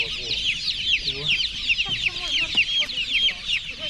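Many chickens cluck and chatter continuously nearby at a market, a busy flock noise with a few voices talking faintly underneath.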